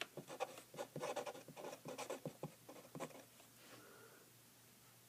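Handwriting during a math lecture, a marker or pen scratching in quick strokes and taps on a board or paper, rhythmic bursts of writing that trail off into quiet near the end, with no talking.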